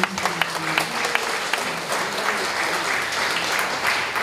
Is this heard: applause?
yes